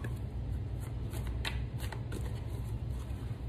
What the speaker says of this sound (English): Let me shuffle these. I'll make some noise.